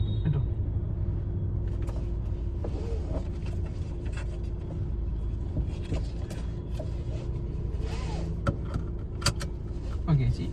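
Inside a stationary manual-gear car during a driving lesson, rustling, clicks and a light metallic jangle suggest a seat belt being pulled and buckled under a low cabin hum, with quiet talk in the background.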